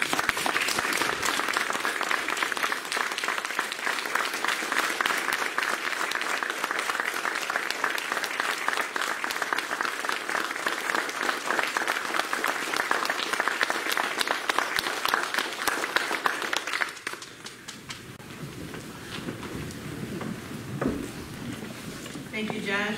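Sustained standing ovation at a memorial service for a grandfather, a dense roomful of clapping that holds steady for about seventeen seconds before fading to scattered claps and quiet murmuring.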